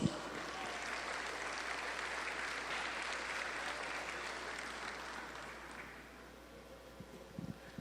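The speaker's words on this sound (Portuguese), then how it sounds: "Aplauda ao Senhor Jesus." Church congregation at a service applauding, a sustained wash of many hands at moderate distance that thins and fades out near the end.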